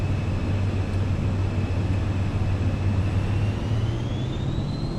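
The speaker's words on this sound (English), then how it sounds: "We're ready to take off here." Airliner engines spooling up for takeoff from Darwin, Australia in Microsoft Flight Simulator 2024, a loud continuous roar with a slowly rising whine that stays steady and close, with no voices.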